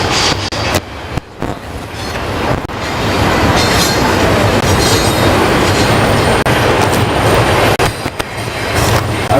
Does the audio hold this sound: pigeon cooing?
no